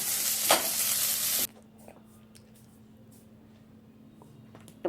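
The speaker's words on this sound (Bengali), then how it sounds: "পেঁয়াজগুলো একটু নাড়াচাড়া করার পর এর মধ্যে দিয়ে দেবো, পেঁয়াজগুলো একটু ভাজা ভাজা হয়ে গেছে, প্রথমে আলুগুলো, তারপর কুমড়োগুলোকে দিয়ে দেবো।" Onions, potatoes and pumpkin frying in a pan, a loud close sizzle with a stir scrape for about a second and a half, then dropping to a faint low hiss with light scattered clicks before the sizzle briefly returns.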